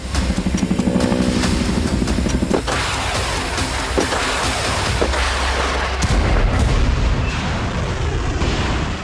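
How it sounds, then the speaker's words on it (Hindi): Loud, dense rumbling blasts and booms of missile and artillery strikes in war footage, overlapping with a continuous roar and scattered sharp impacts, no speech. "ताबड़तोड़ मिसाइलों का प्रहार किया है।"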